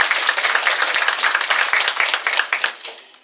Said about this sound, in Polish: Oklaski, proszę.